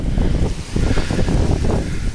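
Strong wind buffets the microphone outdoors, a loud, gusty rumble that keeps going without a break and with no talking.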